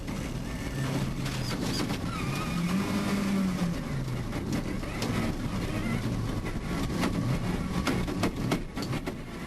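A rally car on a gravel stage runs with an unhealthy, rough engine, a continuous mid-distance drone with rising and falling revs and no talk over it.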